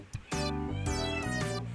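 A cat meows loudly and insistently indoors, a short chirp followed by one long drawn-out yowl, close to the listener and on its own without talk.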